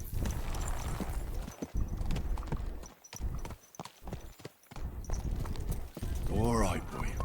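Horse hooves clip-clopping in the medieval game Kingdom Come: Deliverance 2, steady hoofbeats under continuous talk, ending with a horse's whinny.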